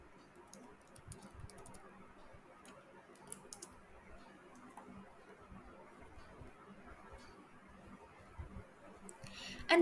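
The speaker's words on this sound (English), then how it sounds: "type your password" Soft, rapid clicks of fingers typing on a computer keyboard at close range, quiet and steady over a low background hiss, with a louder click at the end.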